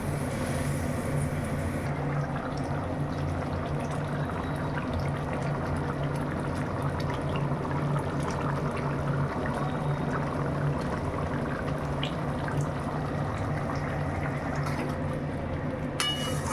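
Potato curry with a little water simmering in a wok for jalpai alur dom, giving a steady bubbling, liquid hiss that runs unbroken and close for the whole stretch, with no talk.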